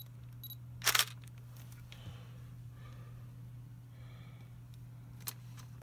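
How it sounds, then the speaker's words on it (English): A single crisp shutter click near the start from a camera fitted with a Leitz Wetzlar Super-Angulon-R f/4 lens on a Nikon mount, followed by a few faint small clicks over a steady low electrical hum. "The shutter of the camera will work and you will get a photo."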